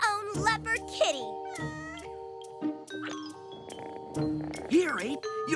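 A cartoon leopard kitten meows in repeated high, wavering cries, some rising and falling, set against a busy cartoon soundtrack with chimes and music and short character voices in between.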